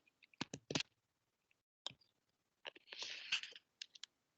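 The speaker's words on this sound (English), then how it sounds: "I'm just typing on my keyboard" Keys tapped on a computer keyboard in irregular short bursts, several quick clicks, a pause, then a clustered rattle of presses and a few final taps, close and fairly quiet.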